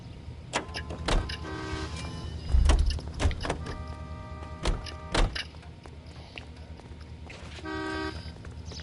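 A car is commandeered by a police officer in the L.A. Noire video game. Door thumps, mechanical clunks and short repeated electronic beeps come through over a low engine hum, with a couple of louder thuds.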